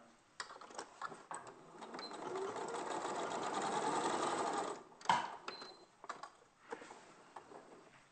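A sewing machine stitches around the underside of a stuffed toy creature in a close, whirring run of several seconds, then stops and starts in short ticking bursts.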